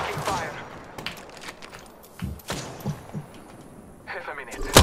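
Gunfire in a video game, with bursts of shots crackling in quick irregular clusters and a heavier volley at the end, heard alongside muffled game noise and footsteps.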